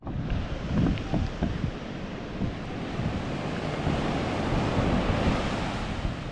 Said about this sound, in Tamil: இது வந்து பெனாலியம் பீச்